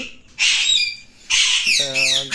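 Pet parrots squawk in two harsh, loud bursts, followed by a shorter tonal call, all close by with no talking, as the birds are moved to a new cage that used to be a pigeon cage.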